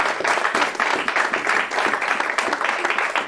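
A church congregation applauding together, a dense, sustained wash of clapping filling the room at strong volume, with little or no talk over it.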